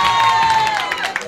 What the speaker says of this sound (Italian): Un applauso, Arianna!